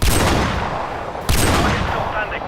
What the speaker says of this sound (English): he takes a shot